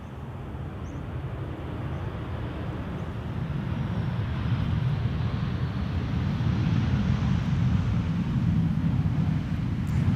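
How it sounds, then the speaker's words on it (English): A KLM Boeing 737 from Zurich lands in gusty crosswind at Amsterdam Schiphol, a broad steady jet roar with wind rumble that slowly swells louder across the whole stretch, with no voices. "Next up, a 737 for KLM arriving from Zurich."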